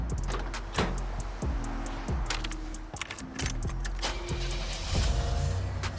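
A 1987 Buick Grand National Turbo engine cranks and starts up, settling into a steady idle, with keys jangling and car door and interior sounds close by.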